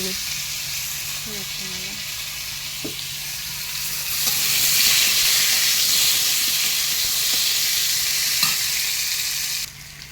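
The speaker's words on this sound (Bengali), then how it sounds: "আলুগুলোকে একটু হালকা করে ভেজে নিলাম" Potatoes fry lightly in a pan for a Bengali home-cooked dish, a continuous bright sizzle that swells after a few seconds, with occasional utensil scrapes and stirs.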